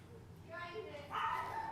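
A dog barking and yipping in a few high, tonal, whiny bursts, the last one louder, with a human voice faintly under it.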